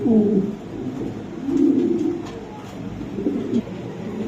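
A pigeon coos nearby in soft, low, repeated rolling calls, with quiet background noise between the phrases.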